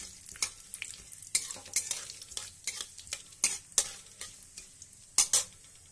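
Dried red chilies and mustard seeds frying in a little hot oil in a kadai for sambar dal, giving a steady close sizzle broken by repeated sharp spoon-stirring scrapes and pops at an uneven rhythm.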